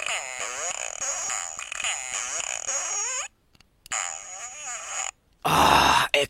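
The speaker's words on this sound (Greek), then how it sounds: "Τι είναι αυτό, μια κλανιά." A fart-like buzzing noise in a Greek-dubbed Sonic X parody, a harsh burst near the end after a stretch of modulated tonal sounds, loud and close.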